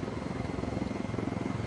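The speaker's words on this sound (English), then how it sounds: "that's our helicopter." A helicopter in the Ghost Recon video game gives off a steady, throbbing rotor chop that fills the short stretch at moderate loudness.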